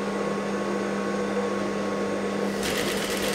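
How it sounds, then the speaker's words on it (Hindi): Sewing machine stitching lace onto the corner of a blouse, giving a steady close mechanical whirring hum with a constant motor tone and a brighter burst near the end. "और कोने में ही सिलाई मारते हमें जाना है इसी तरह से।"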